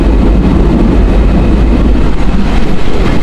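Passenger train running on rails between Mongla and Benapole, heard from inside as a loud, continuous rumbling roar with dense rattling of the carriages and no talk.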